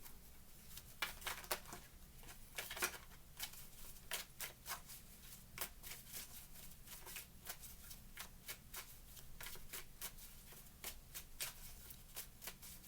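Tarot cards are shuffled and pulled by hand, producing a steady run of soft, crisp riffling snaps and flutters that stay quiet and close throughout.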